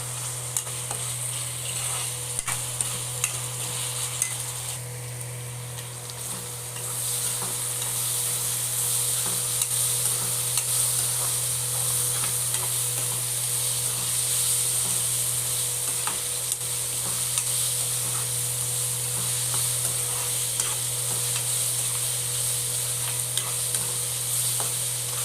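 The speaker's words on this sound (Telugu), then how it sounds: "అల్లం చిన్నులపాయ పేస్ట్ వేసిన తర్వాత బాగా ఎర్రగా వచ్చిందాక ఫ్రై చేసుకుందాం." Ginger-garlic paste frying in a pan for a prawn fry, making a steady, continuous sizzle with occasional stirring scrapes over a low electrical hum throughout.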